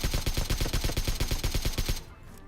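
Rapid automatic gunfire in the PUBG video game rattles in a steady, fast burst of evenly spaced loud shots lasting about two seconds before cutting off to a quieter tail.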